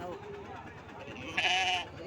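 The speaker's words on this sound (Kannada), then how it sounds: "ಇವು ದುಗ್ಗತ್ತಿ ನೋಡ್ರಿ ಇವು ಕುರಿ." Sheep of the Duggatti breed at a weekly livestock market bleat once loudly and nearby, over a background of people talking and market murmur.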